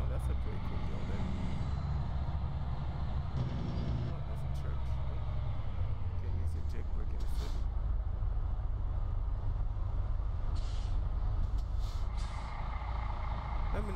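A Freightliner Argosy truck in American Truck Simulator rumbles with a low, steady diesel engine drone, its pitch shifting as it changes speed, with a hiss of air brakes and someone talking over it.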